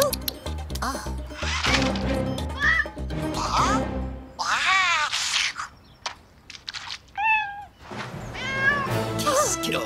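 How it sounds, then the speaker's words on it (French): A cartoon cat meows repeatedly in loud, wavering calls, including a drawn-out yowl, with cartoon characters talking around and between the cries. "Je crois que c'est un chat."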